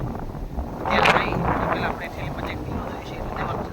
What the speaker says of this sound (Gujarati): અત્યારે વાય છે જોરદાર પવન